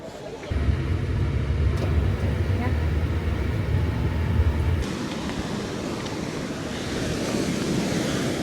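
Surf washes steadily onto the shore at Nusa Dua beach in Bali, a continuous broad roar with heavy wind rumble across the microphone for the first half, then an even wash of waves.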